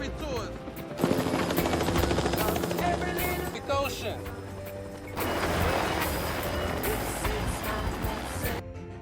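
A helicopter in a film, caught and tossed by a powerful storm vortex, gives a loud continuous roar, with crashing bursts and dense soundtrack layers that rise and fall.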